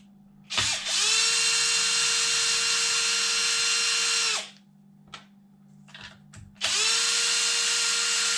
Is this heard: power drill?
yes